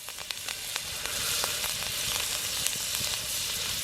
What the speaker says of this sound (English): We're going to cook the steak in garlic butter, get the sizzle going